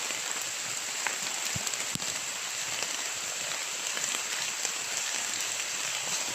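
Heavy rain pours steadily and densely, a continuous hiss of drops on surfaces with a few louder nearby splats, no voices.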